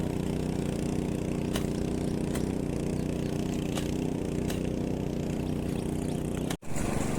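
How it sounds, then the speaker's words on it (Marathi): A tractor engine runs at a steady mid-pitched drone while driving across a rain-soaked field in Konkan during first ploughing, with faint intermittent clicks and no voices. "आता ट्रॅक्टर घेऊन आता दुसऱ्या भागात चाललेलो आहे इकडे ट्रॅक्टर घेऊन"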